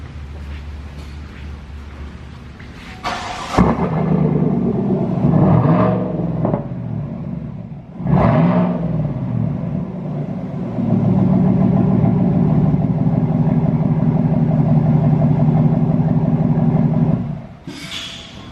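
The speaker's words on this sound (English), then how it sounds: "I'm gonna start the truck so you can hear it now" The 6.2 V8 of a 2020 Chevy Silverado pickup cranks over, catches and settles into a deep, loping idle, with a few revs swelling louder before it cuts off.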